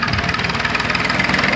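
A tractor engine runs on a village farm track, a steady close rumbling chug with a regular knocking pulse and no speech.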